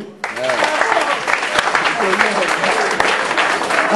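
Sustained applause from an audience honoring a football player at a team awards evening, dense continuous clapping starting abruptly and holding loud throughout, with some voices mixed in.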